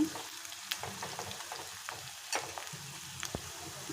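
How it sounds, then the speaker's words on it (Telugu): Onion pieces fry in a pan until golden for a moong dal tempering, giving a steady close sizzle with scattered sharp clicks and scrapes from stirring, with no voices. "ఆనియన్ పీసెస్ కొంచెం వేగాలన్నమాట"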